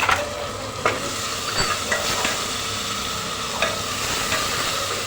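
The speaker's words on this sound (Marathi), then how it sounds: "हे चांगलं आता परतून घ्यायचं आहे" Tomato puree with ginger, garlic, chopped curry leaves and coriander being sautéed in a pan, a loud, steady sizzle with occasional scraping stirs from a spoon, close up and continuous, with no talking.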